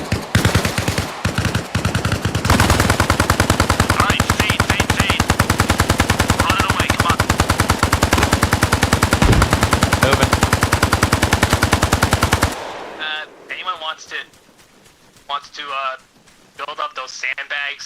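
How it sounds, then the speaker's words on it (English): A machine gun dumps a magazine in the video game Arma Reforger: a few separate shots, then roughly ten seconds of loud, continuous rapid fire that stops abruptly, leaving quieter scattered sounds and voices talking. "I want to do another mag dump."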